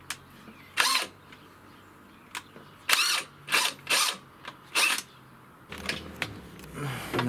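A cordless battery drill is run in short bursts while threading a damaged hose on an SR, giving a series of whirring, ratcheting pulses of varying length with brief gaps between them, close by.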